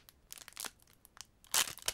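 Elite Trainer Box packaging for Pokémon cards torn and crinkled open by hand, with scattered crackling bursts and a louder ripping crunch near the end, close and fairly quiet.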